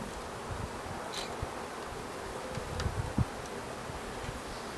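Honeybees, a four-pound package being set into a hive, give off a continuous low buzzing hum close by, with a few soft knocks and rustles from handling partway through.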